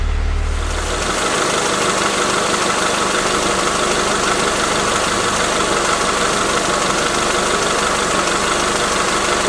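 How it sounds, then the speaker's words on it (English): A car engine with an exhaust leak is revved and held at speed close by, giving a steady, loud, rough roar with a hissing, knocking edge throughout and no talking. "I can hear it coming out of this area by the exhaust, especially when I rev the engine"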